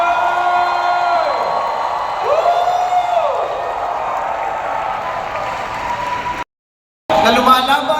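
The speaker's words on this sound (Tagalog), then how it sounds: "Yung palakpak na maririnig ni Pastor Apollo C. Quiboloy." Crowd clapping and cheering at a campaign kick-off rally for Pastor Quiboloy's party list, a broad roar of applause with sustained, wavering tones and whoops over it, briefly cutting out before more noise returns.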